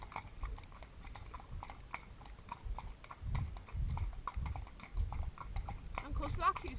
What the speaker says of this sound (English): delighted just to plod behind another horse